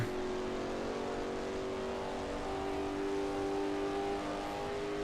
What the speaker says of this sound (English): Thing does sound nice, though. Big, throaty engine.